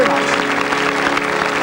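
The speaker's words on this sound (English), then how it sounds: "Give them a round of applause, folks." A 1984 TV game show studio audience applauds, a steady dense wash of clapping with a faint musical tone underneath.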